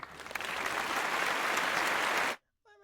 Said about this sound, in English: 3-second applause